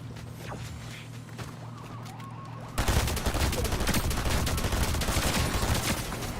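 Gunfire in a Fortnite match breaks out loudly midway through and settles into rapid, continuous bursts. Before it starts there is quieter ambient game sound with scattered faint shots.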